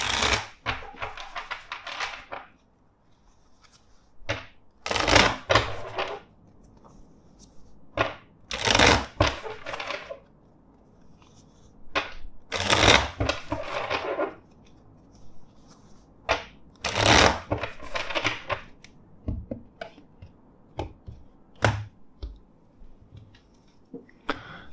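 Tarot cards riffled and shuffled by hand in a series of crisp bursts, several distinct shuffles separated by short pauses, close and clear with no talking.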